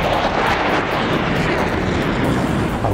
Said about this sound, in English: The Italian Air Force Tornado displaying at RAF Cosworth.